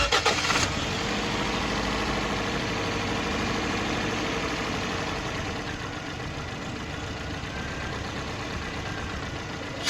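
A Toyota Corolla GLI with a sound problem cranks and catches at the start, then settles into a steady, fairly loud idle with a faint higher whine running above it, and nobody speaks.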